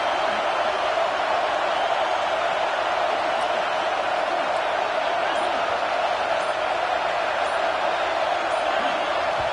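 Roaring stadium crowd at a college football game, a dense, loud and unbroken wall of cheering noise that holds steady throughout.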